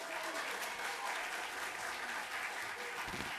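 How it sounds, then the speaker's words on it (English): Steady applause from an audience at a city youth advocacy day event, a dense continuous patter of clapping heard from a distance and fairly faint, with no talking over it. "So give him a round of applause."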